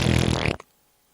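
A single loud, close fart, a buzzy sputtering burst lasting about half a second, then the clip falls silent.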